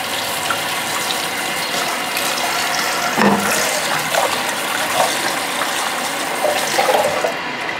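Tap water runs and gushes steadily into a sink while a rice cooker pot is washed, with splashing surges and clatter as the pot is handled, close and fairly loud.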